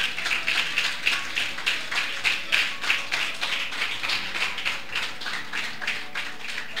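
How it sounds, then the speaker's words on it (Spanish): Church congregation applauding, a rapid, fairly even patter of hand claps sustained for several seconds in a roomy space, with no voices over it. "Denle un aplauso al Señor."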